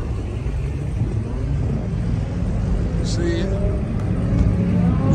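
Mopar muscle cars rumble and rev loudly at a crowded car show, a steady low engine roar with a passing surge near the end, a brief voice speaking over it.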